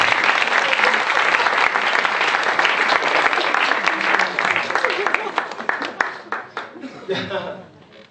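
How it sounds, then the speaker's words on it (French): Loud, dense applause from a studio audience at a stage hypnosis show, sustained clapping that thins out and fades over the final seconds, with a voice briefly heard amid it. "On va l'applaudir bien fort."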